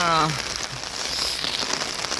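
Steady rain falls under dark, overcast skies near mountains, a continuous broadband hiss of drops on surfaces; a voice is briefly heard at the start.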